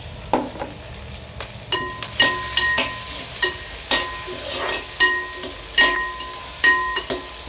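Onions sauté in a pan with curry leaves and green chillies, a soft steady sizzle broken by repeated rhythmic scrapes and clatters of stirring, close and alone.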